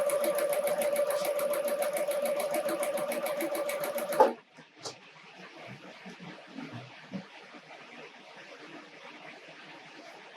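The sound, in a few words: sewing machine sewing snowman quilt blocks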